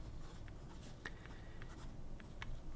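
A Montblanc 149 fountain pen with a size 9 nib scratches across paper in short, quiet strokes, with soft scattered ticks of the nib over a steady low background hum.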